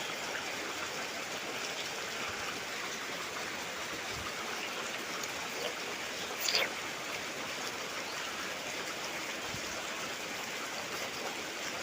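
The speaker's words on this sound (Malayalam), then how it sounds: "നല്ല മഴയാണ് ഇവിടെ" Heavy rain falls as a steady, dense wash of noise that continues unbroken throughout, with one brief sharp sound partway through.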